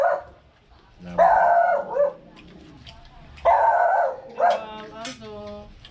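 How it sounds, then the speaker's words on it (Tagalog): A dog barks twice in loud, separated bursts with a howling, whining tone between them, close by, with quiet talk in the background. "Aso."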